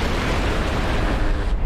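Sustained 20mm Vulcan cannon fire with semi armor-piercing high-explosive incendiary rounds striking an M113 armored vehicle in DCS World, a dense, loud continuous roar of rapid bursts and impacts that cuts off near the end.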